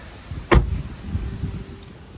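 A Tesla Model 3 car door shuts with a single solid thud close by, followed by a low lingering rumble and a faint click near the end.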